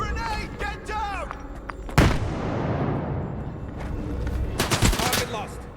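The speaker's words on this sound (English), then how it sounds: "Grenade out! Grenade, get down!" A grenade blast in the shooter S.T.A.L.K.E.R. 2 lands as one sudden, loud boom, with a long rumbling roar that trails off. Shouting voices come just before it, and a burst of sharp gunfire follows near the end.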